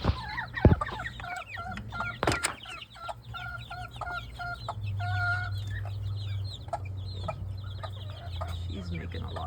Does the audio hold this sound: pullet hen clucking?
yes